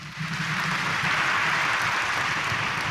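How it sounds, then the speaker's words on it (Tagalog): A church congregation at an Easter Sunday Mass applauds, a dense and even wash of clapping that holds steady for its whole length, with no voices above it. "Mas malakas sa palakpak bilang pasasalamat"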